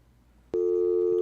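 A telephone busy signal on a radio call-in line after the caller dropped, starting abruptly as a loud steady tone following quiet line hiss.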